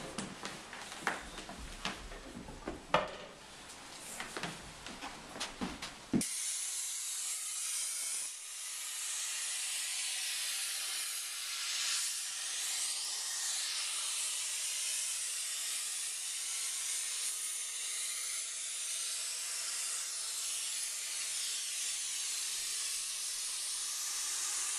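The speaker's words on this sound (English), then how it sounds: "as you see, it's coming out as a dry ice." Cryonite dry ice spray jets from an applicator nozzle in a steady, loud, continuous hiss lasting about eighteen seconds, coming on abruptly after a stretch of busier clattering handling noise.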